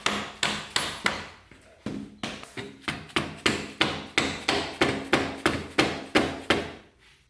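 A ZX14 motorcycle rear axle is driven into the wheel with around twenty sharp, evenly paced hammer blows on metal. The strikes are close and loud, with no talking.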